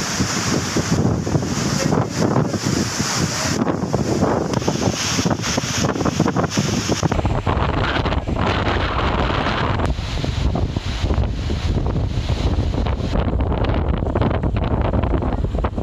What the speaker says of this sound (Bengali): রেমালের শক্তিমত্তায় বয়ে যাচ্ছে দমকা ঝড়ো হাওয়া।